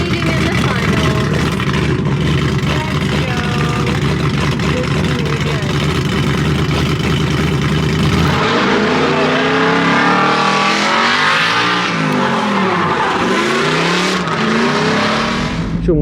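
Nissan drift car engine revving hard at a pro drifting final in Brazil, a loud continuous roar with rising and falling revs that sweep up and down in the second half, constant and close throughout.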